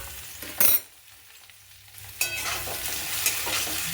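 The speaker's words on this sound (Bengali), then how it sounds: "আলুটা একটু লাল লাল করে ভাজা হয়ে যাবে" Potato pieces frying in oil in a pan, a short burst of stirring and sizzle, then a quiet gap before a steady soft hiss of frying resumes.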